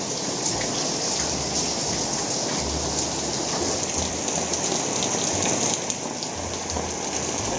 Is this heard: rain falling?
yes